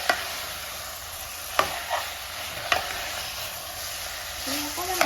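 Spices frying in a kadai for chicken curry, a constant close sizzle punctuated by scraping strokes and clinks of a stirring spoon, with a brief voice near the end.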